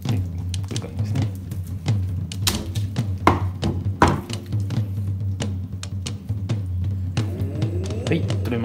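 A knife cuts into and guts a flathead fish, with irregular crisp taps and wet squishing clicks, close up over a low steady hum.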